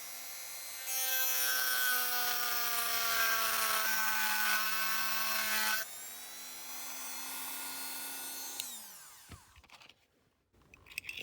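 A grinding wheel works on a die-cast metal Dinky Toys 23J HWM race car during restoration, giving a loud, bright continuous whine that shifts pitch partway through, then winds down and stops, followed by a few faint knocks and handling noises.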